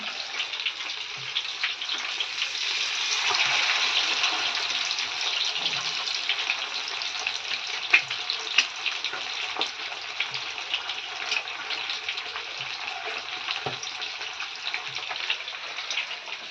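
Masala-coated fish pieces frying in a pan, giving a steady, bright sizzle that swells early and holds for the whole stretch, with a few faint pops and clicks under it and no talking.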